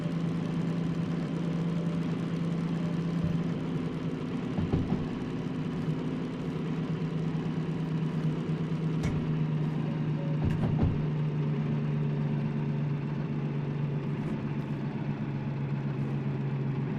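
Train mechanics in the video game Derailed: a steady low engine rumble and hum running throughout, with a few faint metallic clanks and knocks over it.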